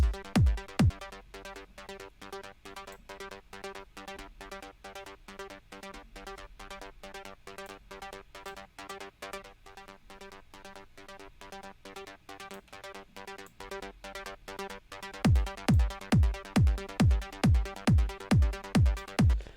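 A compressed, punchy trance synth bass pulses in a steady repeating pattern, then grows louder and sharper near the end with strong, clipped attacks; no talking.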